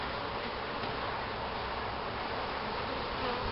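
Honey bees swarm around an opened hive during a July inspection, making a dense, steady buzz that stays close and loud throughout with no voices.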